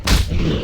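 A druid's Wrath spell cast in a video game bursts out in one short, loud booming blast with a low rumble that fades quickly.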